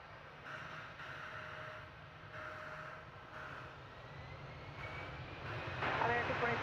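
An American Airlines jet departing DFW Airport, a distant steady engine roar that slowly builds and grows louder toward the end, with faint radio-style chatter in the background.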